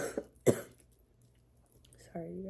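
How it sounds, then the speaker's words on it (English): A woman gives a sharp cough, then a second, heavier one a moment later. Both are close and fairly quiet, and her speaking voice resumes shortly after. "I have this cough"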